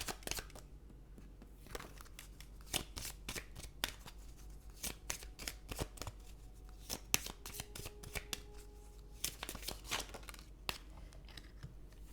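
Tarot-style cards shuffled and drawn during a French card reading, a dense run of crisp riffling flicks and slaps, close and fairly quiet, with only a hint of voice.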